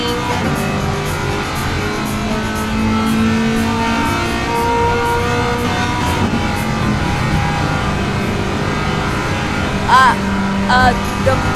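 A race car in Gran Turismo 7 accelerates with a steady, loud engine drone that holds through the run, with a few sharp higher-pitched bursts near the end.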